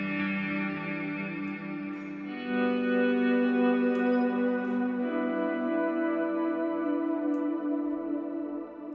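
An ambient electric guitar tone processed through a Line 6 Helix with tremolo and a delay/reverb effect rings in sustained, echoing chords that swell midway and slowly fade, with no talking.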